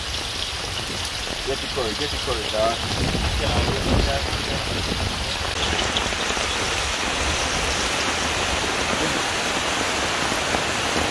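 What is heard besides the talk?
heavy rain falling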